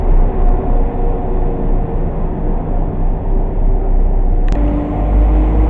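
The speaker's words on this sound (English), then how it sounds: "The train is departing going to Berwick at 11:29." A Class 172 diesel multiple unit pulls out of Stourbridge Junction station with a steady, loud low rumble, and a brief high squeal cuts in near the end.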